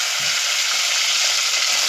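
Steady, loud sizzling of cooked chicken frying in hot oil, a continuous crackling hiss with no voices.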